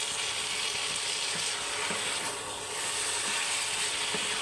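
Chicken frying with onion in a pan, a steady broadband sizzle with faint scraping and clicking stirring touches, continuous and close.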